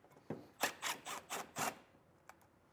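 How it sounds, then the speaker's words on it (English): A T25 Torx bit turns a bolt out of a 2023 Porsche, giving a few rhythmic ratcheting rasps and scraping turns in quick succession, close and fairly quiet, followed by a faint click. "you're going to take a T25 Torx bit and remove that bolt."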